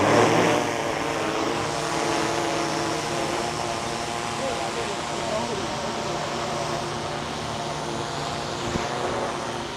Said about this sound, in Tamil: ஏன்னா ட்ரோனோட சவுண்ட் வந்து கொஞ்சம் கம்மியாக தான் இருக்குது.